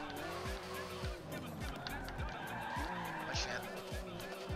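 Tires squealing as a car skids in the racing game Forza Motorsport 7, with repeated engine revs and downshift sweeps, under a man's startled exclamation.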